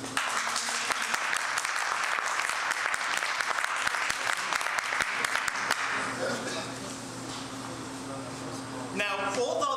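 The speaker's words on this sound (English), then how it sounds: "a round of applause for everything that you do" Steady applause from an audience at an honoring ceremony for a police chief and his wife, dense clapping filling the first six seconds before thinning out, with a voice speaking near the end.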